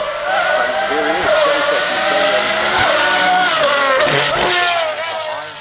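A naturally aspirated V12 Pagani hypercar at the Goodwood Festival of Speed hillclimb, its engine wailing loud and close with sweeping pitch changes and tyre squeal, while a commentator talks over it.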